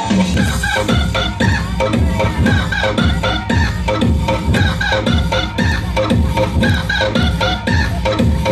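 A rooster clucks and crows over a loud, busy backdrop with a steady rhythmic beat running throughout, the bird calls repeating and partly blending into the music.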